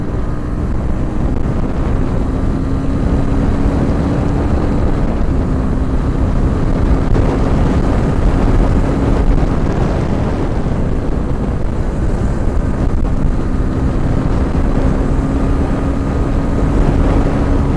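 A Honda CB 300R motorcycle at high speed gives a constant loud roar of wind buffeting mixed with a steady engine drone, unbroken throughout, with no talking.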